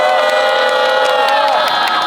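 A rally crowd at a citizens' march cheers and shouts steadily, a dense wall of voices and whoops over scattered applause, loud and sustained throughout.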